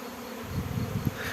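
A honeybee swarm buzzes around an apple tree, a steady, low droning hum from many insects that swells slightly midway, heard close and fairly quiet with no voices.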